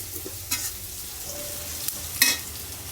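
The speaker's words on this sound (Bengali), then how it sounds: "আম্মু এদিকে ইলিশ মাছ ভেজে তুলে সেই তেলে পেঁয়াজ কাঁচামরিচ ভেজে নিচ্ছে।" Onion and green chili frying in oil left from fried hilsa fish, a steady soft sizzle with a few scraping stir strokes and occasional sharp clinks, close and fairly quiet.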